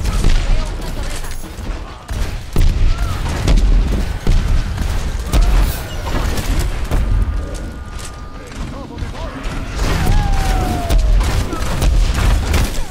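Pharah's rockets in Overwatch burst in repeated loud booms amid chaotic gunfire and clanking mechanisms, a dense, busy battle soundscape with a player speaking Spanish over it.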